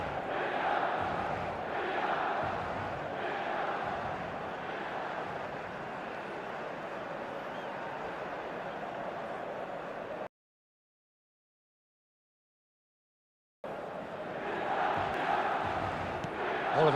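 A stadium crowd roars at a Barcelona match in the eFootball video game, a dense steady wash of voices and chanting that cuts to silence for a few seconds and then returns.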